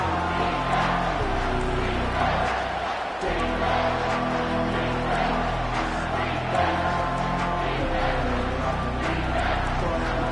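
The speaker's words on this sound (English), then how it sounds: "Decibels rising as the crowd gets behind this defense on third down." A football stadium crowd roars on third down late in a Nebraska game, a loud, sustained wash of cheering and yelling that swells throughout, with announcer talk over it.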